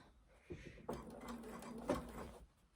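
A home sewing machine stitches a garment hem, a low steady mechanical whir with faint clicks that starts after a brief knock and runs at an even pace, quiet and close.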